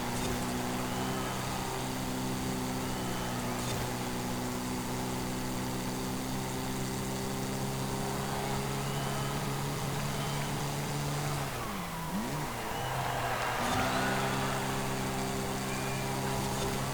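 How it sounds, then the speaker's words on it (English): The inline-four engine of a 1986 Ford Mustang SVO in Forza Horizon 5 droning steadily at low revs, with a brief dip and wobble in pitch near the end before settling back. "with an inline 4 you need it to be high revving to sound pretty good"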